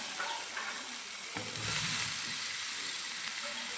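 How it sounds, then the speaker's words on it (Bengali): Pointed gourd, potato and prawns stir-fry in a spice paste with a constant, close sizzle and a stirring scrape partway through, no talk. "সবগুলো একসাথে ভালো করে মশলার সাথে কষিয়ে নেব।"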